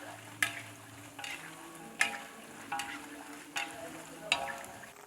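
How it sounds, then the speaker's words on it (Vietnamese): Rice cakes fry in hot oil with a steady hiss as they puff up and expand. Sharp scraping stirs cut in roughly every second. "You can hear that hissing sound as the air is rising out of the cake and they're expanding."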